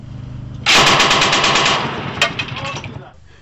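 A 12.7 mm machine gun on a remote-controlled weapon station fires one loud, rapid burst lasting about a second and a half, then its echo rolls off into quiet.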